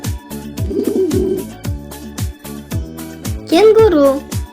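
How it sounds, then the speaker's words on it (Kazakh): A pigeon gives a low, rolling coo over a steady pulsing music beat, followed by a brief louder voice-like call near the end. "Көгершін."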